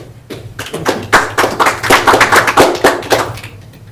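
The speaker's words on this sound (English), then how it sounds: "There's some clapping." An audience claps after a lecture in a hall, a dense burst of applause that builds quickly, holds loud and close for a few seconds, then thins out.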